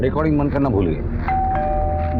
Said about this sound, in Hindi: डोरबेल बजी